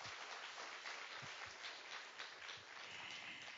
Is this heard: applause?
yes